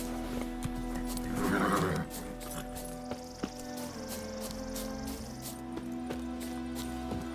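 Geralt's horse Roach in The Witcher 3, neighing once in a clear whinny, then hooves clip-clopping at a walk, close and fairly loud with quiet ambience behind.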